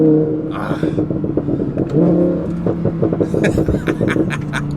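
An Audi R8 engine revs hard and loud, with throaty pulsing bursts and rising pitch, a few crackling pops near the end.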